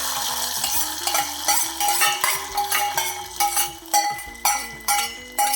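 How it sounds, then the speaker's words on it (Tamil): A mustard seed tempering is added to sambar and stirred, giving repeated metal clinks and scrapes of a ladle against the pot in an uneven rhythm, close and fairly loud. "கடுகு வெடிச்சிருச்சு இப்போ நாம் வந்து இதை அந்த சாம்பாரில் சேர்த்துடலாம்"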